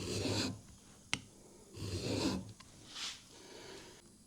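A chisel being sharpened with long rasping strokes across a stone, three or so slow close rubs separated by a sharp click.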